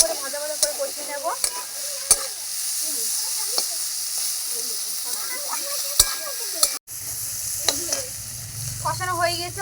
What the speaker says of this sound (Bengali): মশলাটা দিয়ে একটু ভালো করে ভাজা ভাজা করে কষিয়ে নেব।